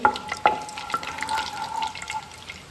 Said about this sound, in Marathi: लवंगांनी मातशी बरी फटफटपाक जाय.